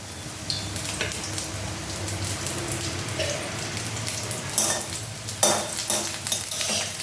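Eggplant frying in a pan for a winter greens recipe, a steady sizzle with occasional stirring scrapes and metal spatula clinks, close and continuous.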